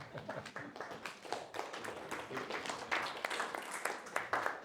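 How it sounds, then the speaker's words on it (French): An audience applauds in a hall, many hands clapping in a dense, steady patter that swells slightly toward the end. "Kim, je pense qu'on peut l'applaudir."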